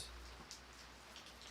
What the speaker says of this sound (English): Only silence was present besides the tapping of the rain.